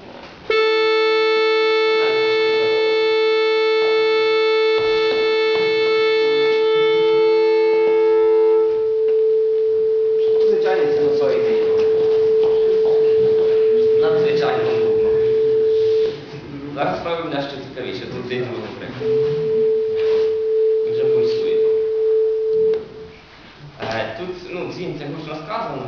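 Several steady sine tones synthesized in SuperCollider sound together as a clean electronic chord, then drop to a single pure tone that continues under someone speaking.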